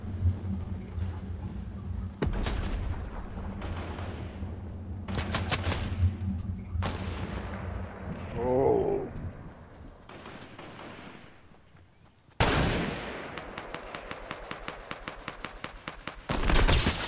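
Shooter video game gunfire with loud sniper cracks, sharp booming shots and a rapid burst of automatic fire near the end, over a low rumbling game background.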